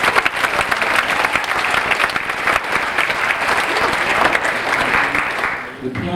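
Audience applause at a 2003 Milton Academy jazz anniversary concert, dense continuous clapping from a large crowd, loud and close, tapering slightly at the end.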